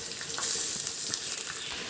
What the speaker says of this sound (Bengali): আস্তে আস্তে ভাতগুলো দিয়ে দিচ্ছি এক এক করে।